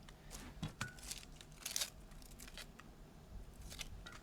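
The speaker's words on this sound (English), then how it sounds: "They're yellow cooking onions, and we're just going to cut them up really quickly now." Yellow cooking onions being peeled and cut up quickly, heard as a few close, crisp snips and papery crinkles spread irregularly through a quiet kitchen, with no talk.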